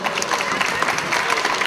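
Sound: audience applause

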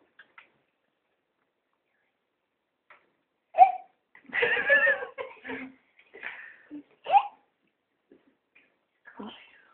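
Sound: voice imitating a rooster with hiccups

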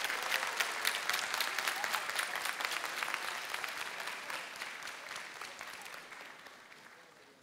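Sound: audience applauding the jury

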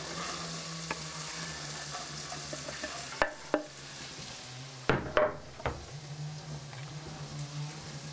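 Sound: carrots frying in butter in pot

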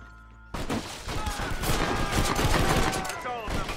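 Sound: gunfire from a gun in the video game Red Dead Redemption

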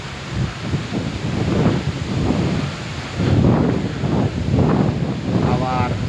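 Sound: strong wind and rain storm over the Bay of Bengal

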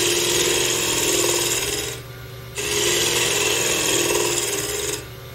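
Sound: shear scraping wood on a lathe with a heavy gouge

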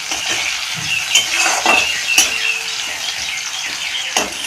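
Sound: onion and tomato frying in pan

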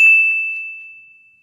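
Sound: notification bell ding

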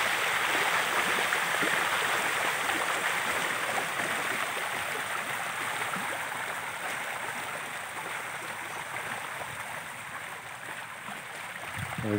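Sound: water current flowing past fish pen

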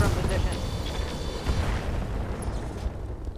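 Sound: bomb mines explosion in the video game Roguetech

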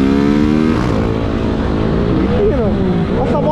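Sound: motorcycle engine revving, Titan 160 or Start 160

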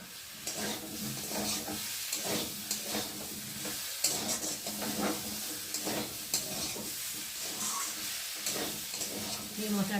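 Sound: sautéing spice masala with green chillies in a pan

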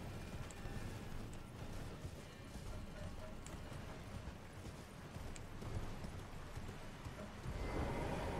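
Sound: horse hooves galloping in video game Elden Ring

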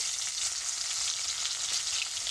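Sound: chopped onion frying in oil

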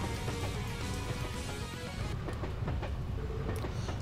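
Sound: train moving on rails, from Trails to Azure video game

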